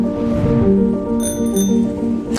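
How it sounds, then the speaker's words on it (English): A bicycle bell added as a sound effect in an edited travel shot, ringing out bright and close over a bed of steady ambient tones, with a couple of crisp metallic chimes. "the sound of a bicycle bell"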